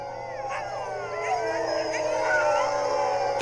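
A chorus of Greenland dogs howls together in a small town in northern Norway above the Arctic Circle, long overlapping wails rising and bending over steady background noise, fairly close and sustained.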